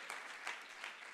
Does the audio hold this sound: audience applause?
yes